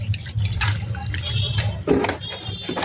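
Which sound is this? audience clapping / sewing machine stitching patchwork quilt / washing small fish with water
washing small fish with water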